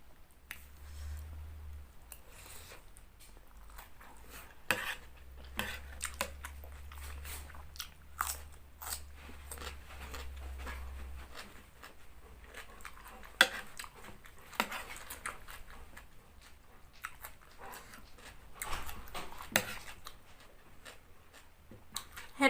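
Someone eats homemade Thai papaya salad with fresh rice noodles, giving close, quiet bites, crunches and wet chewing in an irregular rhythm, with sharp crunchy clicks scattered over a low background hum.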